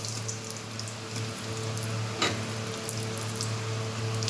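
Dried red chillies with curry leaves and a bay leaf stirred in hot oil, giving a steady, rain-like crackling sizzle throughout, moderately loud, over a constant low hum.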